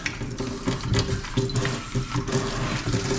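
A kitchen sink faucet runs during a garbage disposal installation, a steady close hiss and splash of flowing water with slight fluctuations and no talking.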